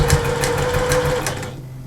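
Sewing machine running steadily while stitching a 1/4 inch seam around the head of a cuddly fabric bear, a close, continuous motor whir with rapid needle clatter that stops just before the end.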